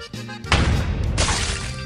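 A powerful gun in the video game Happy Wheels fires with a loud, broad blast at about half a second, followed by a second burst with crashing, shattering debris that rings on before fading.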